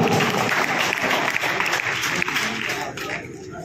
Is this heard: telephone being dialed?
no